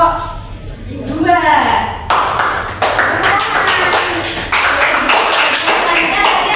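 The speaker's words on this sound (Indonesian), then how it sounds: "tepuk tangan untuk kelompok 2." Fifth-grade pupils in a classroom clap for a group of classmates: after a brief voice, dense, rapid hand claps rise and keep going, fairly close and lively.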